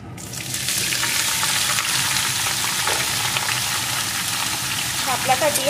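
Cut water lily stems (shapla) sizzle and crackle in a hot pan, a steady, dense frying hiss that runs close and loud throughout, with faint stirring sounds and no clear talking.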